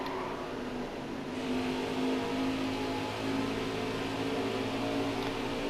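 Race car engine in NASCAR Heat 4 holds a steady, loud drone with sustained harmonic tones, running continuously without a break.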